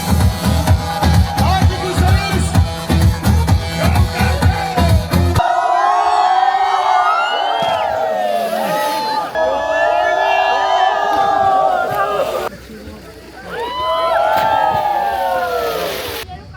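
Loud music gives way to a crowd cheering and whooping aboard a pirate boat as people leap into the water, with splashes and sloshing between bursts of shouting voices.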